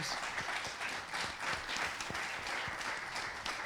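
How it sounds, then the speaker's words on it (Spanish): Audience applause at a Natura 2000 network forum, a steady wash of many clapping hands sustained throughout, moderately loud and even, with no speech over it. "un aplauso también para ellos"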